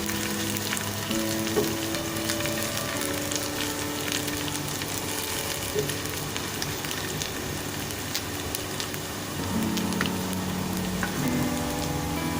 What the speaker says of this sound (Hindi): एक दरमियानी सी प्याज स्लाइस में काट के ले ली है और इसको हम फ्राई करते हैं